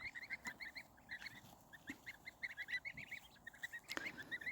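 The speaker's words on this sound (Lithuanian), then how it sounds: "Žąsiukai ir ančiukai bėgikai mažuliukai." Goslings and tiny Indian Runner ducklings chirp in rapid, repeated peeps, a busy overlapping chorus held close at moderate volume, with brief louder calls rising now and then.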